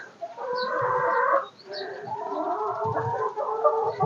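Hens in a farmyard coop cluck and squawk loudly and close by in overlapping bursts, with a few softer calls in between.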